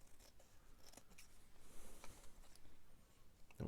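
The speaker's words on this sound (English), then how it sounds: "I'll just need to cut it down." Scissors cutting card for a vintage intercom journal card, heard as faint, close snips and crisp rustling, with a louder handling noise at the very end and no talk.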